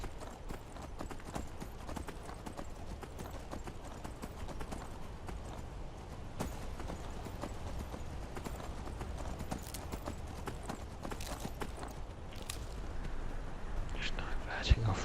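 Horse hooves galloping in the video game Skyrim, a fast, continuous clip-clop rhythm pounding throughout, fairly close, with a person talking softly over it.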